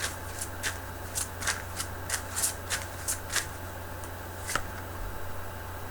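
Tarot cards being shuffled by hand, a series of about a dozen crisp riffling bursts in irregular rhythm, close and fairly quiet over a low steady hum, with no talking.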